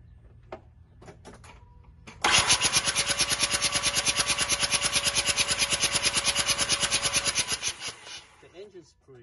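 A 2005 Mazda RX-8 rotary engine cranks without starting, the starter churning in a fast, even rhythm for about six seconds after a few clicks, loud and close, then cutting off.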